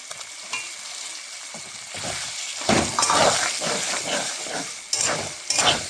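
Potatoes fry in a hot spice paste in a pan, a loud crackling sizzle that swells in bursts as they are stirred and tossed, with hissing steam, close up and without talk.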